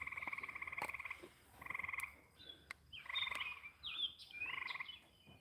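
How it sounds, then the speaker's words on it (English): A big tree frog calls repeatedly in quick rattling trills, faint against a quiet farm background, with a few higher chirping notes mixed in. "Sounds like a big tree frog."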